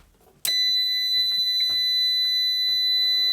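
A sharp electronic beep from an inverter starting up begins abruptly and holds as a steady high-pitched tone for several seconds, loud and close, with faint clicks beneath.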